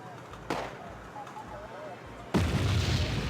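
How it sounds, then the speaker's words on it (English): Artillery fire in the video game Wargame AirLand Battle: a sharp bang early on, then a loud, heavy explosion with a broad rumbling roar that lingers to the end over a steady battle background. "Wow, that's a large explosion."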